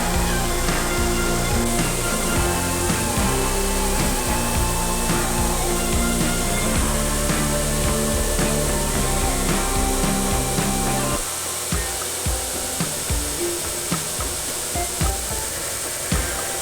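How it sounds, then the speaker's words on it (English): A grinder shapes the guard of a dagger forged from a file in a continuous, loud, harsh grinding whir that runs unbroken for a long stretch and eases a little toward the end, with no talk. "Now we're going to grind our guard to shape."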